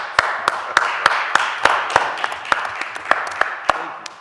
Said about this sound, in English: Can we give y'all a round of applause?